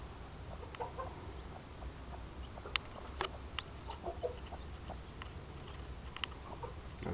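Chickens clucking at a backyard Madagascar rooster breeding pen, scattered short clucks and calls over steady background noise, fairly faint and with no talking.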